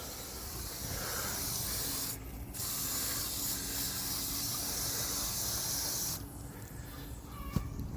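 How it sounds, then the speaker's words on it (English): Super Clean degreaser hisses steadily from a spray bottle onto a valve cover of a 1988–98 GM pickup truck, in long continuous bursts broken by brief pauses, close and loud. "Spray a little more on there."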